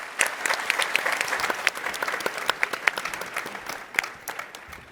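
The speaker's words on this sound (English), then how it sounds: "Give them a round of applause, folks." Audience applause at a startup pitch competition session, steady clapping from a crowd of many hands, moderately close and continuous with no talk over it.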